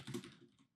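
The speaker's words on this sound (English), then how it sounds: "I'll type" A short, quiet burst of typing on a computer keyboard: a few quick keystrokes close by, with no one speaking.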